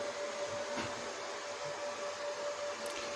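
A steady, low electrical hum and whir from an electric boiler and heating pump groups running, with a faint constant tone and a few soft clicks, close and unchanging throughout.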